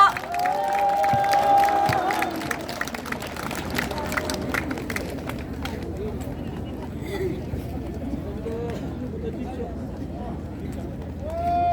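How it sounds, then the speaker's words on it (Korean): A crowd at an outdoor election rally in Duryu Park, Daegu, claps and cheers, loudest at the start and then thinning to scattered claps, with people talking and shouting throughout. "여러분 큰 박수로 환영해 주십시오."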